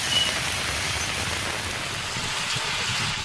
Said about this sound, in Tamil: நேற்று இரவு கனமழை பொழிந்தது